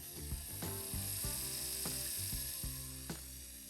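A tattoo machine running with its needle on an InkClaw Phoenix wireless battery power supply gives off a faint, steady mechanical buzz, broken by repeated light clicking and ratcheting knocks at an uneven pace.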